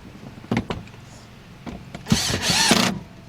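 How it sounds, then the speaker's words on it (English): A cordless drill gun fitted with a T20 bit tightens screws on a 2011 GMC Acadia 3.6 radiator fan assembly, with a few short clicks and taps before one close, loud whirring burst of about a second. "get your T20 bit on your gun, and we're going to go and tighten them up."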